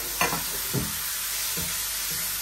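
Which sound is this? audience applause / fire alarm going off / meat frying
meat frying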